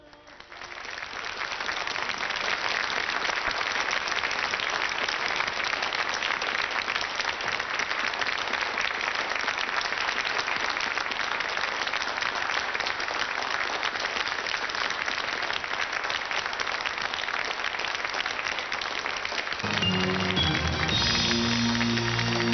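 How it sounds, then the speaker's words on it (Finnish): Sustained audience applause on a televised singing competition, steady and full for about twenty seconds before music begins to come in near the end. "aplodit"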